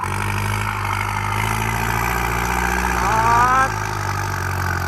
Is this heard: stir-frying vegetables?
no